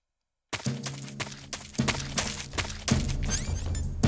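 A flashbang grenade bursts in Metal Gear Solid 3: Snake Eater, a sharp blast followed by a dense, ringing wash of noise and clattering tones that stays loud for several seconds.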